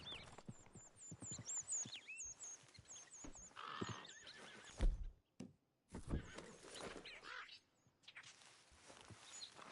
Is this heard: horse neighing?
yes